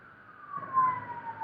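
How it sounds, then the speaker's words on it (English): An ambulance siren wails, rising and falling steadily, fairly close outside a window, over a low rumble of traffic. "it's an ambulance"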